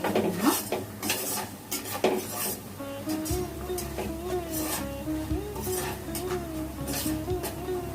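A spoon or spatula scrapes and clinks against a pan while onion is sautéed with garam masala and sugar, with irregular metallic taps over a low hum and a faint tonal whine joining partway through.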